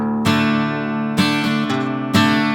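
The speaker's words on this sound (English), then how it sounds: "I'm going to demonstrate it straight through and go into the chorus." Acoustic guitar plays a pre-chorus riff leading into the chorus, with three strong strummed chords and some picked notes between them, ringing out close and unaccompanied.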